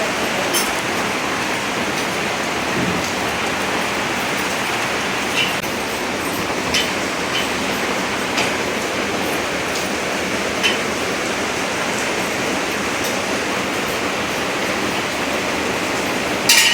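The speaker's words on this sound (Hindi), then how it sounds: "बहुत तेज बारिश हो रही है।" Heavy rain pours on the bank of the Narmada river, a dense, loud, unbroken hiss with no voices.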